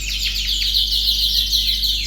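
Small birds in a breeding birdroom chirping and tweeting continuously in a busy overlapping chorus, fairly close, with no talk.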